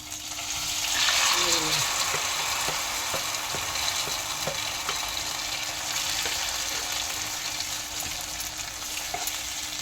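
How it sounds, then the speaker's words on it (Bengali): Chopped tomato sizzles in hot oil with panch phoron spices, frying steadily for a chutney, with regular stirring scrapes and taps throughout; the sizzle swells early and then holds a constant, close hiss. "কেটে রাখা টমেটোটা দিয়ে ভালো করে নেড়ে চেড়ে সামান্য একটু আঁচটা বাড়িয়ে দেবো।"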